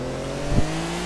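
Cars drive in Grand Theft Auto IV with a continuous engine drone and road noise, and one brief swelling whoosh midway like a car passing close.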